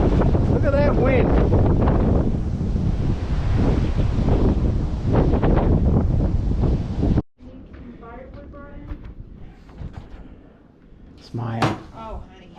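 Cold wind gusting outdoors, a steady loud broadband roar buffeting the microphone for about seven seconds, then dropping to a quieter rush with people talking nearby.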